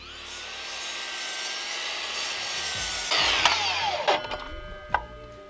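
Power saw cutting through a timber wedge, a sustained rising whine followed by harsher grinding bursts and sharp scraping spikes as the blade finishes the cut, loud and close with no voices.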